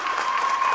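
Audience applause at a live rap battle event, steady dense clapping from a crowd with a faint whistle-like tone running through it.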